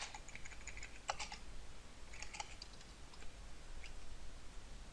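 Text is typed on a computer keyboard in short bursts of quick, faint key clicks separated by brief pauses, heard close up in a quiet room with no voices.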